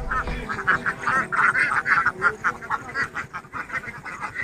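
A large flock of ducks at a river duck farm quacks loudly and continuously, overlapping calls pulsing in rapid bursts close by.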